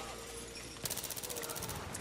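Gunfire in the video game Battlefield 3, a quick rattling burst of rapid shots that starts suddenly partway through and keeps going over faint background game noise.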